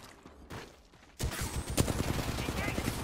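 Bursts of rapid gunfire in the battle-royale shooter Apex Legends. A quieter stretch breaks into loud, sustained volleys of close shots, with faint background sound throughout.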